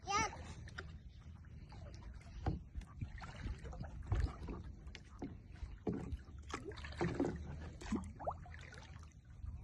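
Oars dip and splash in water as a small wooden boat is rowed, with a child and adults chatting close by throughout.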